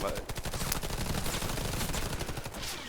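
A small gun in the shooter game Warface fires rapid bursts of automatic shots, dense and close, with a voice talking faintly underneath.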